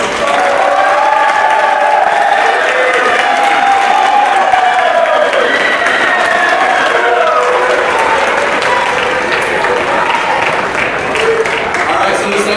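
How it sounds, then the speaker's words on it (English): Sustained applause from a crowd at a college athletics banquet fills the whole stretch, dense steady clapping with cheers and lively voices mixed in underneath. "we need to give a big thank you, a round of applause to Frank and Jane from Sodexo."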